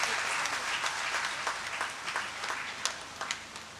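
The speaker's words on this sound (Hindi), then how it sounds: "एक बार तालियां फिर उठा दीजिए" Audience applause in a cultural hall in Bhiwani at a poetry gathering, a bright, dense burst of clapping that gradually thins and fades, heard alone without talk.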